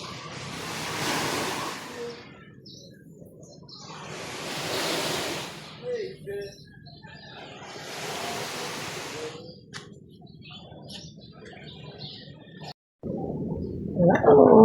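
Ocean waves at high tide on a Cebu shore, three slow, loud washes of surf rolling in and receding, with a voice briefly heard near the end.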